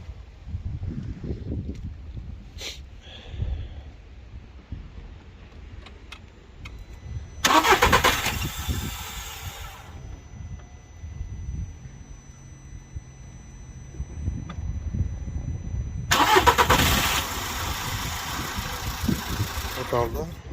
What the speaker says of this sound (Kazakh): Оталды, өшіп қаптыр.